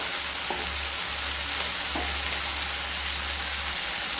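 Fish roe frying in a pan with salt and turmeric, a steady broadband sizzle with a few soft scrape accents of stirring, close and continuous with no talk.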